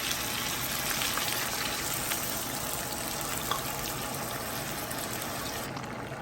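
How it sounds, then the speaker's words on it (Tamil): A glass of water poured into chicken gravy cooking in a pan gives a steady, close hiss and sizzle that runs continuously, easing slightly at the very end. "1 கிளாஸ் தண்ணி ஊற்றுறேன்"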